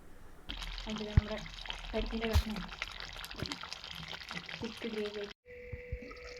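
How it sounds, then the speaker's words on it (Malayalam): Curry keeps bubbling and simmering in a pot just taken off the stove, with soft irregular popping and liquid burbles under a person talking, briefly cutting out near the end. "നമ്മൾ പാത്രം ഇറക്കി വെച്ചിട്ട് കുറച്ച് സമയമായി എന്നിട്ട് കറി തിളച്ചുകൊണ്ടേയിരിക്കുന്നു"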